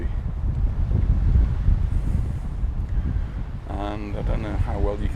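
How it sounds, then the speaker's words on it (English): Strong wind blasting across a microphone on a busy beach, heavy low rumbling gusts throughout, then a person starts talking near the end. "It is very windy."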